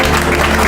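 Applause from an audience in a church, a brief steady wash of clapping with no pauses.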